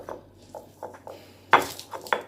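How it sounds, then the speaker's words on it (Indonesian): Fried shrimp and spices are pounded and ground in a stone mortar with a pestle, giving a series of soft rhythmic crushing strokes followed by a few sharper, louder scraping knocks close by. "Oke, kita ulek dulu ya"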